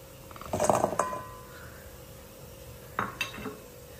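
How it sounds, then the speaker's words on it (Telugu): Pieces of raw mango for avakaya mango pickle are tipped into a bowl, making two short, faint clattering bursts a couple of seconds apart in an otherwise quiet kitchen. "ఈ పావు కిలో మామిడికాయ ముక్కలు వేసుకుందాం"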